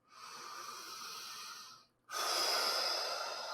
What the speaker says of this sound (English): Don't forget to breathe.